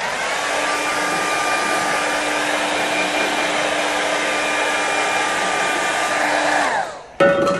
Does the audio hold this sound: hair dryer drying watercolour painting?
yes